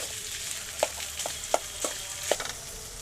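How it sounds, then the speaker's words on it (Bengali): Potatoes and green peas in a wok give off a soft, steady sizzle. A few sharp clinks and scrapes of stirring ring out at irregular intervals over it. "আর আলুর সাথে একটু দিয়ে দিয়েছি কড়াইশুঁটি।"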